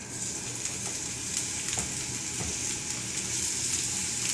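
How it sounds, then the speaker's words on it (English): Onions sizzling steadily in a hot skillet while making vegan Dominican mangu, a continuous close, bright hiss with faint crackles and no talking. "Now I'm going to put these onions"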